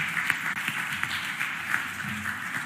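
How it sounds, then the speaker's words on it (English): An audience at a Philadelphia mayoral budget address applauds, a steady wash of many hands clapping at moderate distance with no talk over it. "Please give them a round of applause"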